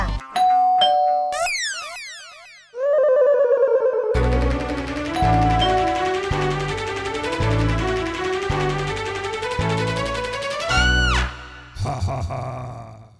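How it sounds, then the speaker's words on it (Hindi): A ding-dong doorbell chime rings loudly in a Hindi TV drama scene, with tonal chimes, dramatic music and sweeping effects filling the rest of the clip. "मुझे लगता है दरवाजे की घंटी बजेगी"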